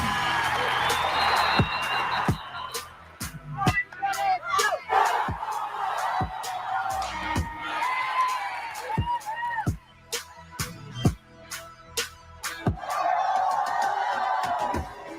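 A crowd cheering and whooping at celebratory moments, bursts of shouts and whistles rising and falling amid sharp percussive hits and music, with a voice speaking over parts of it.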